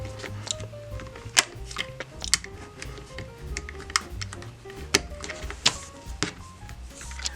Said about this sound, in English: I'm going to use a mat knife and this mat board to just cut